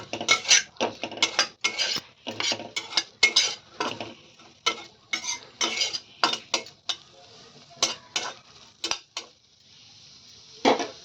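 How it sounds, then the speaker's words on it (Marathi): Capsicum being sautéed in ghee in a kadhai, with repeated scraping and clinking of a spatula against the metal pan in quick irregular strokes, close and fairly loud, no talking. "त्या कढईमध्ये थोडंसं तुप्पाची आहे ती कढई त्यामध्येच मी ही शिमला मिरची अशी छान परतून घेते"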